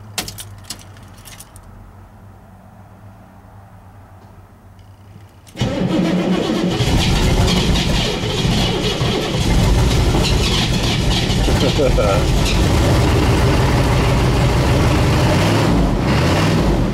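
A 6.2 diesel engine cranks and catches on a cold start after the glow plugs cycle, then settles into a loud, steady rough idle close by with a constant clattering roar; the engine is smoking and has worn injectors.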